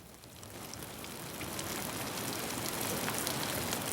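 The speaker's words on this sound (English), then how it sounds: "A new day, a new rainstorm, but they don't last long." A rainstorm in the northern Canadian wilderness builds into a dense, steady wash of rain noise that grows slightly louder over a few seconds, with no voices.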